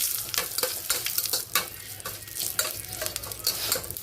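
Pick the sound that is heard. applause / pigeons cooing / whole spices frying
whole spices frying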